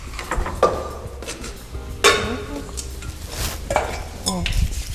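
A large pot of food stirred in a kitchen, a spoon scraping and knocking against the metal with clinks and clatter, a soft sizzle underneath, close and fairly loud.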